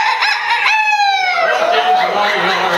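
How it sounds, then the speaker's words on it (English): A loud rooster crows nearby in a yard, a long drawn-out cock-a-doodle-doo that rises and then trails off. "Ever since that rooster came into our yard."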